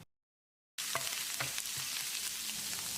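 Chopped ginger and garlic hit hot oil in a pan for a shredded chicken fry. After a moment of silence a loud, steady sizzle bursts in, with a few crackles and pops over the continuous hiss, and no one speaks.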